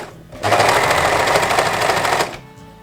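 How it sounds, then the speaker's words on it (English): An overlocker stitches stretch cotton t-shirt pieces together, a fast rapid-fire mechanical chatter that starts suddenly, runs steadily for about two seconds up close, then stops. "I cut all the pieces on stretch cotton and used my overlocker to join them together"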